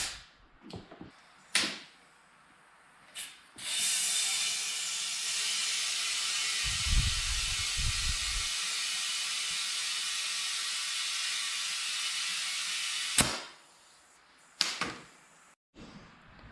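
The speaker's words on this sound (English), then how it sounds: "Now all I gotta do is fill this with air using our air compressor." An air compressor fills a Mickey Thompson drag slick tire on a beadlock wheel for a 2005 Chevy Corvette, giving a steady loud hiss for about ten seconds, framed by short sharp bursts of air and clicks before and after.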